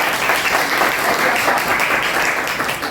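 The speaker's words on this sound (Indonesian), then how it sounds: "Berikan tepuk tangan kepada kelompoknya" A classroom group gives a loud, dense round of applause, with many hands clapping close by in a steady, unbroken wash for the full three seconds.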